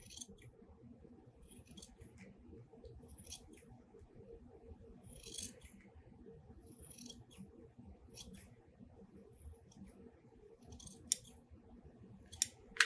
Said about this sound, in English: let's just trim the outsides just a little bit